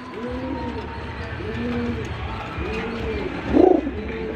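Male Rajshahi gribaz pigeon cooing near the listener, four rhythmic rolling coos about a second apart, with a louder burst near the end and faint background noise.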